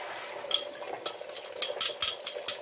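Beaten egg stir-fried in a pan, a spatula or spoon scraping and clinking against the metal pan in quick irregular strokes, close and fairly quiet, with a faint sizzle underneath.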